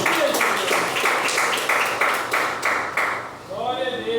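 A church congregation claps for Jesus in steady rhythmic unison, a dozen or so sharp collective claps at an even beat, with a voice rising near the end.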